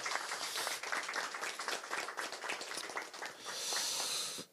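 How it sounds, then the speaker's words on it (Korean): An audience at a Korean political party rally in Incheon breaks into sustained applause, a dense wash of clapping that holds steady and swells slightly near the end, heard at moderate distance. "응원의 박수를 부탁드리겠습니다."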